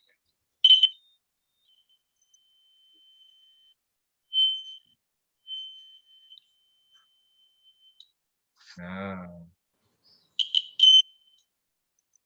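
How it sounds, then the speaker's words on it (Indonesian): A battery-powered electric alarm buzzer in a primary-school classroom demonstration sounds a steady, high tone for several seconds, with short louder chirps at the start and near the end, while a voice briefly speaks in between. "ketika listrik tersambung pada kabel alarm ini menghasilkan bunyi"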